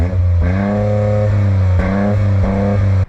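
A Toyota GR Corolla engine revs steadily against its soft limiter, the tone bouncing and cutting repeatedly at the limit, loud and close with no talk over it.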